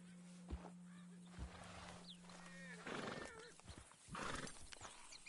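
A horse whinnies and neighs in Red Dead Redemption 2, with hoof clops and scattered knocks around it, a steady low hum early on, and a second louder whinny near the end.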